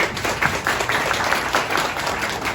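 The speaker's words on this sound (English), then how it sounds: "give yourself a round of applause on that one" An audience at a Frisco Democrats community gathering breaks into a short burst of clapping, a dense patter of many hands at steady loudness, with no voices over it.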